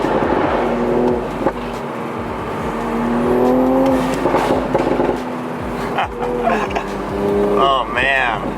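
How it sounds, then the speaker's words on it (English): A Toyota Supra A90 with its stock downpipe drives close by, its engine droning and rising in pitch as it revs, with some background voices mixed in. "the Supra does sound pretty epic even with the stock downpipe"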